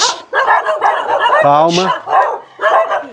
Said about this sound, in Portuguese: pra que latir tanto?